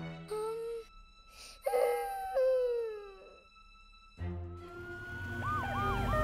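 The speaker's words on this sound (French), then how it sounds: "Les véhicules d'urgence sont là pour t'aider." Cartoon emergency vehicles, a fire truck, an ambulance and a police car, sound rising and falling wailing sirens one after another, fairly loud and overlapping near the end.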